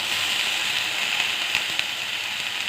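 Leafy greens drop into hot oil with fried chopped onion in a wok and set off a loud, steady sizzle close by, with a few faint crackles and pops.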